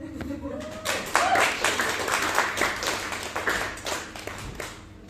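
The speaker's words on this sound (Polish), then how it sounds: "Wielkie brawa już teraz przed Wami na tej scenie Creepy Andrzej." An audience at an open mic stage in Berlin claps, a bright burst of applause rising after a moment and continuing in ragged waves while a voice talks over it.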